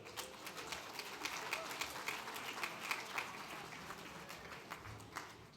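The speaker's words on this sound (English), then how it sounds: "One more time, round of applause for Tyrion" Audience applause at an awards dinner, a moderate spread of clapping from a seated crowd heard at some distance, steady and fairly faint throughout with a few louder individual claps.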